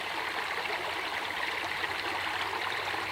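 Creek water flowing steadily over rocks in Beech Creek, Buchanan, Georgia, at a gold prospecting site, a constant close rushing babble with no voices.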